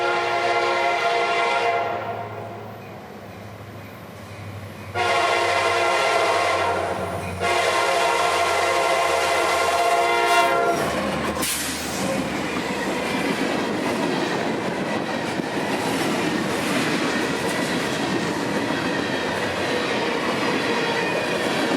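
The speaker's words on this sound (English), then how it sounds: "it still governs trains like M453, coming down the hill with a full head of steam" Freight train M453 rolls downhill at speed on a Florida line toward Lakeland Junction, its horn blasting in long loud blows before the steady rumble and clickety-clack of railcars passing close by.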